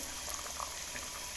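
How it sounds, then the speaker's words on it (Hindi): Soft, steady bubbling of mash dal (urad lentils) boiling in a pot, with small pops rising over a constant low simmer. "हमारी दाल उबल रही है, ये दाल माश की।"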